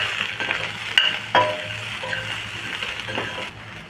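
Carrots and green beans fry in hot oil, a steady close sizzle with a few sharp clinks and stirring scrapes of a utensil against the pan, for a Marathi mixed vegetable dish.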